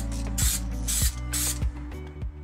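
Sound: spraying paint on van interior panel

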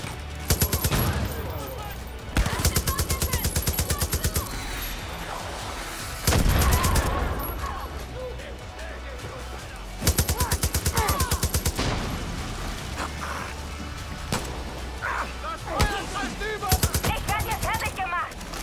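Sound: gunfire in video game Far Cry New Dawn

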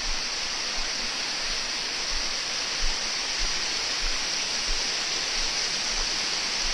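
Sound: waterfall

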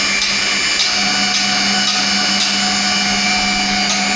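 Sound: magnetic drill drilling holes

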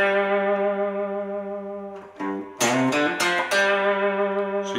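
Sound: second guitar riff from a song

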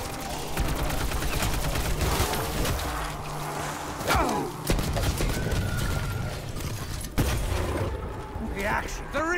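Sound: gunfire from a gun in the video game Black Ops 4

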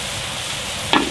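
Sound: stir-frying food in a pan

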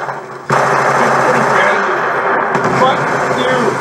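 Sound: gunfire in video game Call of Duty Black Ops 2

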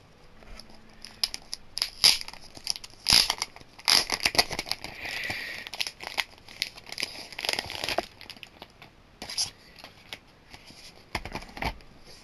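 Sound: unwrapping the packaging of a Blu-ray disc

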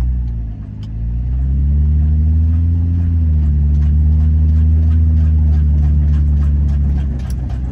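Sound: damaged car making strange noise while driving

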